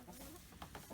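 Meat chickens on a farm clucking softly, a faint, continuous murmur of low fowl sounds with a few brief louder clucks near the end, heard alone without talk.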